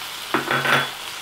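Tomato pieces drop into hot oil in a pan for a Telugu tomato-coriander chutney, setting off a sudden close sizzle that swells and fades over about a second.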